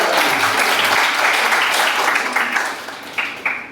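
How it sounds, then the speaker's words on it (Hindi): Loud applause from a mushaira poetry recital crowd at Gandhi Smarak Bhavan, dense clapping that thins and breaks into a few scattered claps near the end. "एक बार जोरदार तालियां"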